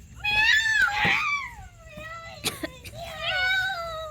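A person imitates a cat, giving a series of drawn-out, wavering meows, some high and whiny, with a short gap and a few clicks between the calls.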